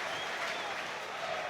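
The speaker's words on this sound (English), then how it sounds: "The noise within the crowd tells you everything." Football stadium crowd at a QPR versus Birmingham City match reacting to a near miss at the back post, a steady, loud roar and murmur of many voices that holds throughout, with no clear single shout standing out.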